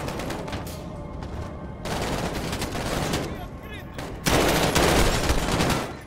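Gunfire from the Call of Duty Modern Warfare video game, bursts of shots and fusillades across the whole span, growing louder and denser near the end, with a faint voice mixed in.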